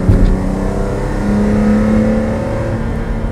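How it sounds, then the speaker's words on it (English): A Ferrari Testarossa's flat-12 engine revs up nearby with a brief rising whine, then holds at a steady throaty drone. "It is very peculiar to this family, almost like a genetic heritage"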